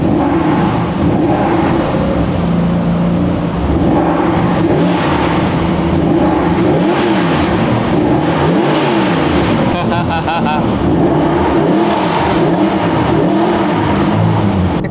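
A Mercedes-Benz car engine revs repeatedly, rising and falling through several loud blips over a steady idle, with faint voices in the background.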